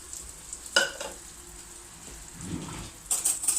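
Tomato sauce poured into a hot pan over sautéed tomato paste sizzles and hisses in a short burst, followed by a brighter crackle near the end, heard fairly close with no talking.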